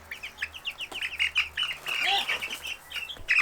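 Chicks and hens inside a garden greenhouse, a busy cluster of high peeping and soft clucking calls repeating close by with no talk.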